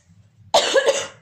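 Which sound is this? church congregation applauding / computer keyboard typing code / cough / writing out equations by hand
cough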